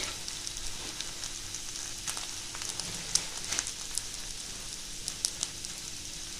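Melon seeds lightly frying in a pan give a steady, soft sizzle with scattered small crackles and pops, fairly quiet and close, with no talking.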